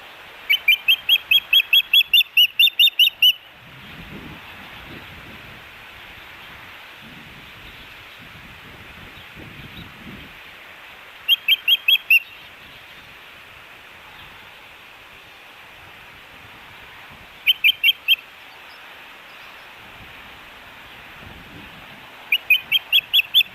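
Ospreys give bursts of sharp, repeated chirping calls at a riverside nest on the Clark Fork river, recurring several times with quiet gaps, over steady high-pitched insect-like hiss and faint rustling.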